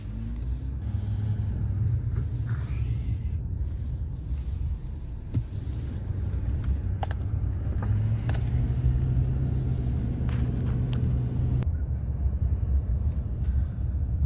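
A pickup truck cruises along a road heard from inside the cab, a continuous low engine rumble and road roar that holds steady, with the motor pitch rising briefly as it accelerates.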